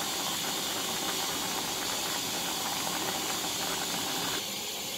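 Chicken wings and tomato soup boil in a pot, giving a steady, loud hiss of steam and bubbling that runs unbroken throughout with no voices.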